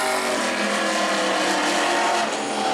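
A pro race truck runs a qualifying lap at New Smyrna, making a continuous loud, roaring engine and rushing noise that stays steady throughout, with no talking.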